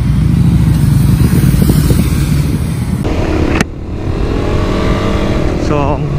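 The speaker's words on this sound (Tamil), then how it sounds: "அந்த இன்லைன் 4 சவுண்டு கேட்டாலே நல்லாயிருக்கு." Passing motorcycles at a bikers' meetup, including a loud inline-four, roar steadily and then fade as one rides by, with someone talking over the engine noise.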